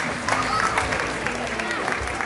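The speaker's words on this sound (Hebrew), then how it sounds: "מגיע להם כפיים" Applause from a crowd at a school graduation party, a steady broadband patter of many hands clapping at moderate level, with voices chattering underneath throughout.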